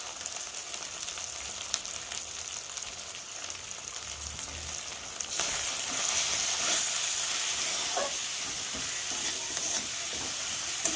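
Ground turmeric, cumin and chili powder fry in oil for a bhola fish curry, making a continuous close sizzle that grows louder partway through, with occasional stirring scrapes.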